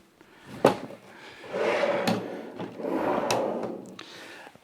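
A cabinet base slides along metal drawer glides with a few wooden clunks and knocks as the two sides engage, followed by smooth rolling rumbles and a final bump, close and clear without talk.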